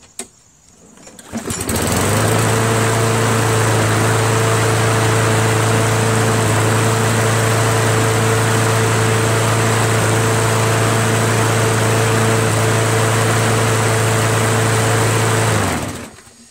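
A Yard Machines 190cc 21-inch push lawn mower engine runs steadily at fairly high revs, loud and close, starting up quickly, holding a constant drone for about fourteen seconds, then cutting off abruptly.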